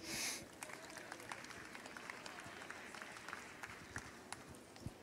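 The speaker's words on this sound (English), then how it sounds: "Give them a big round of applause, please." An audience at a youth auction at a South Texas state fair breaks into applause, a soft, sustained patter of clapping with scattered sharper claps, fairly faint and distant.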